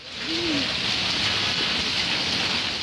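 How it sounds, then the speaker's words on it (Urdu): Heavy afternoon downpour in Lahore, a steady dense hiss of rain drumming on surfaces, loud and continuous throughout with no pauses and no voices. "سپہر کے وقت بادل اچانک گرج چمک کے ساتھ موسلا دھار برسنے لگے"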